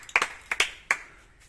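A few people clap for a lizard in short separate bursts: roughly four sharp claps, close and fairly loud, then a fading tail with no talk.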